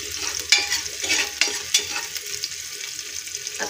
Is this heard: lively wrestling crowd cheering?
no